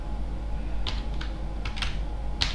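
A handful of sharp, sparse key clicks on a computer keyboard entering a port number, irregular taps over a low steady hum, no voices.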